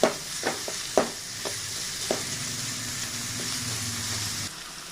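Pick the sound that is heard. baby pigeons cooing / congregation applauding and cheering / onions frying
onions frying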